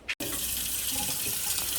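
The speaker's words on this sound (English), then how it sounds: "So I'm putting water in the pot." Tap water gushing steadily into a cooking pot for lasagna noodles, a close, continuous splashing stream after a brief start.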